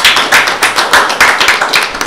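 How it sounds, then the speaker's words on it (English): A crowd at a business breakfast meeting claps steadily in a loud, dense round of applause, individual claps blurring together with rhythmic surges, no voices over it. "a round of applause to Tom and the planning group, please."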